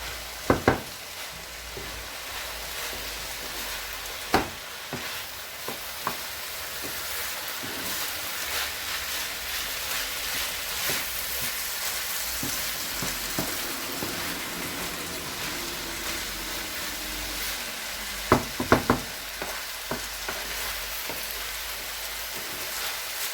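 Vegetable rice fries quietly in a pan with a soft continuous sizzle, punctuated by a few sharp scrapes and knocks of a utensil stirring it.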